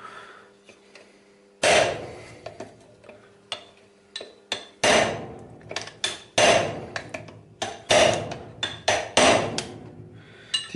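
A hammer strikes an air blower fan hub that has already been weakened with a saw, trying to break it off: a run of sharp, hard knocks, about five heavy blows mixed with lighter taps, close by and loud.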